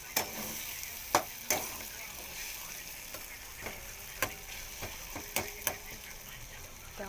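An eggplant mixture roasts in a pan with a soft, steady sizzle while a spoon scrapes and taps against the pan in irregular strokes, close and moderately quiet.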